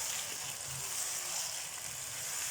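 Chicken and roughly chopped tomatoes fry in a pan with a steady, close sizzle that holds evenly throughout, with no talking.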